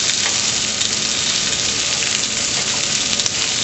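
Lamb chops sizzle and fry in a grill pan, a dense, steady, close hiss that stays loud and unbroken throughout, with no voices.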